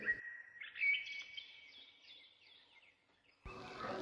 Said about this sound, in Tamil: மீனுக்குருவி தன் நண்பர்களை எச்சரிக்கிறதுக்காக அதனோட கூட்டுல இருந்து கிளம்புச்சு.